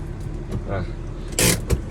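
A manual-gearbox pickup truck is driven, giving a low, steady engine rumble close by while someone talks over it, with a brief clatter partway through.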